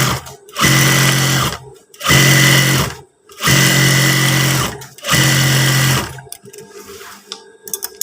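Sewing machine stitching PDL-style long trousers, running in four loud, close bursts of about a second each separated by brief pauses, then giving way to quieter handling noises.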